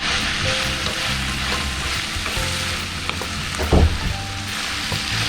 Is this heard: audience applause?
no